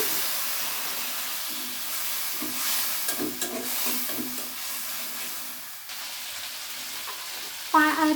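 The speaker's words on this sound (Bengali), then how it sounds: "এই পর্যায়ে কষিয়ে নেব অল্প পানি দিয়ে।" Spices and vegetables sautéed with a splash of water in a pan for homemade noodles, a steady hiss and sizzle with intermittent stirring scrapes and a sharper burst of sizzle near the end.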